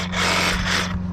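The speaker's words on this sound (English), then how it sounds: "Choose your weapons. DeWalt, Sawzall, wood blade." A DeWalt Sawzall reciprocating saw with a wood blade runs in a short, loud, close burst of buzzing, rasping cutting noise.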